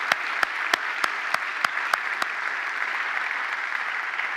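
Sustained audience applause for retirees at a 2018 university service-recognition ceremony, a dense wash of many hands clapping with a few crisp claps standing out early, steady and moderately distant throughout.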